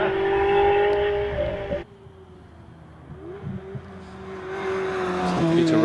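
Ferrari 360 Modena racing up the Harewood hillclimb course, engine revving hard near at first, then dropping away after a gear change and building again as it climbs, with a commentator's voice over it.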